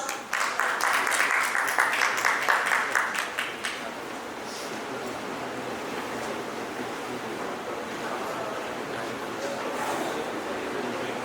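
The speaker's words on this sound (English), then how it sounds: "Give them a huge round of applause" Applause for panelists at a school principals' conclave in Lucknow: a few seconds of crisp clapping from the audience fade into a diffuse, steady wash of room noise.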